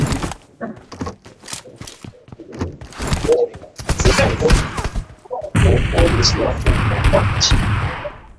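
Gunfire in an online multiplayer video game, bursts of rapid shots and thumps that grow denser and louder toward the end, with players talking over the action.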